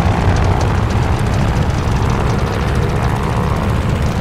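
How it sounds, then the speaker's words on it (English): Warplane engine run-up before takeoff in the Call of Duty Vanguard Battle of Midway game, a loud, steady propeller engine roar that holds constant throughout. "All right, do an engine run-up."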